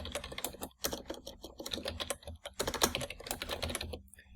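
Someone types a macro description into Excel on a computer keyboard: quick, irregular keystrokes in close, clattering bursts with short pauses between runs.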